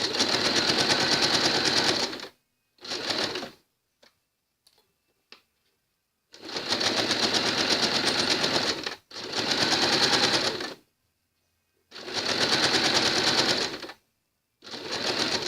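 A sewing machine stitches a zippered welt pocket in several bursts of rapid, steady mechanical whirring, each lasting a couple of seconds, separated by silent pauses and a few faint handling clicks, close and clear.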